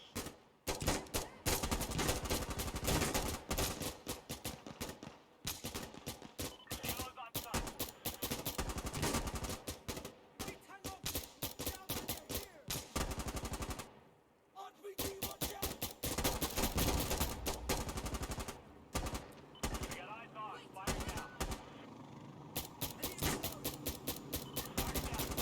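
Rapid bursts of automatic and single-shot gunfire from the tactical shooter game Insurgency Sandstorm, loud and nearly continuous with brief pauses, one near-silent gap midway.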